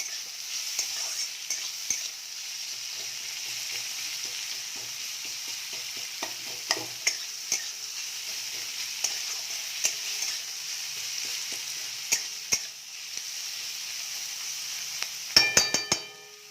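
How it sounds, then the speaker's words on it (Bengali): Onions fry in a pan with a soft, constant sizzle while a spatula stirs and breaks them up, giving irregular scrapes and clinks that turn into a louder clatter of strokes near the end. "এগুলো আমি একটু ভালো করে ছাড়িয়ে খুন্তি দিয়ে ভেঙে দেবো যাতে ছেড়ে যায়"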